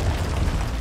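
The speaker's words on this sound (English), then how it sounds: "Hostiles launched a cruise missile." A cruise missile explosion in Call of Duty MW2 online multiplayer sounds as a deep, loud rumbling boom that fills the whole brief moment at close range, with no voices over it.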